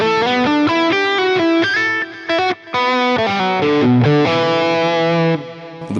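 Electric guitar lead tone through a PRS Archon amp model in a Line 6 Helix, distorted with a touch of chorus, playing a melodic line of sustained notes and quick runs, loud and upfront with two brief gaps.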